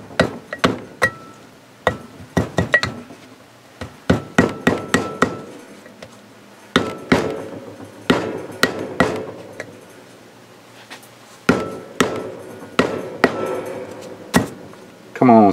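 Small mallet tapping a seal into a Ranger boat trailer hub: sharp, close metallic knocks in irregular clusters with pauses between, some hits ringing briefly, across a quiet background.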